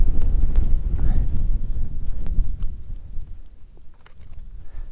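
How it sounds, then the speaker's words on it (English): Gusty wind blows outdoors past plants beside a trout-fishing spot, a loud, close rumbling buffet that fades toward the end, with a few faint clicks and knocks. "as soon as that wind dies down just a little bit"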